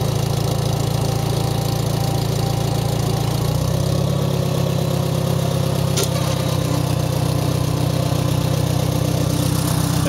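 A 1973 IH Farmall 140 tractor engine runs steadily, its low rumble shifting slightly as the hydraulics are worked, loud and close with no talk.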